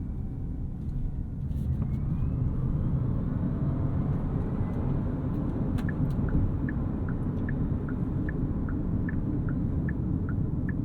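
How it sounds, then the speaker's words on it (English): A 2024 Hyundai Kona Electric is driven, heard from inside the cabin as a steady, loud low road and tire rumble with a faint rhythmic ticking in the background, no engine note. "Keeping in mind here, this is an electric car."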